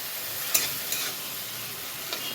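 Tomato jhal with half a spoon of sugar being sautéed in a pan, a steady soft sizzle with a few brief spatula scrapes and taps, close and fairly quiet, no voices.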